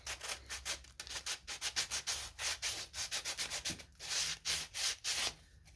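Sandpaper rubbed back and forth over a small wooden snowman, producing a steady run of quick, close scratchy strokes with brief gaps between them and no voices.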